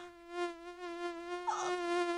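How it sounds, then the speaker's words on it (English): A thin, high mosquito whine hums steadily and close in an insecticide radio advert, the tone wavering slightly as it hovers, with no voices over it. "When mosquitoes invade, use Raid."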